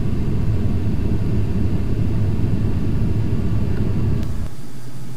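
An airliner in Flight Simulator X roars with reverse thrust after landing, a loud steady low rumble that holds for several seconds and then drops off sharply near the end.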